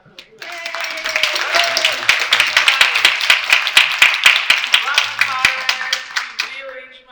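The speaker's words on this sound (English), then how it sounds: "can we have a round of applause for Dr. Alkalimat?" A conference panel audience bursts into applause, a dense patter of many hands clapping that swells and holds for several seconds before fading, fairly close.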